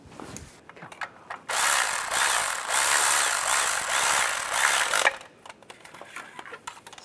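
A power tool whirs tightening the bolt on a Cadillac SRX crankshaft position sensor, a loud continuous burst of about four seconds between quieter clicks and handling noises.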